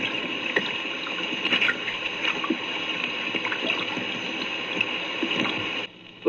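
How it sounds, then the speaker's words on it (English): Underwater background noise picked up by a hydrophone and relayed over a radio sonobuoy from water surging and surface waves breaking. It is a steady, pitchless hiss and rumble with scattered gurgles, and it drops away abruptly near the end. "This background noise is produced by water surging around the hydrophone, by waves breaking on the surface"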